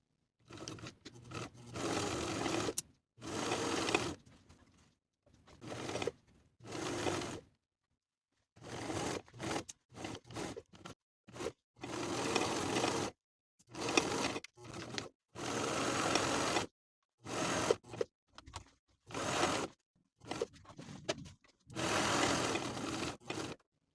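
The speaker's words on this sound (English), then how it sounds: "Edge stitch along the side and bottom edges, back stitching at the beginning and end of your stitches" A home sewing machine edge-stitches and backstitches the side and bottom edges of a pants pocket, running in many short stop-start bursts of steady stitching, close and clear with no voices.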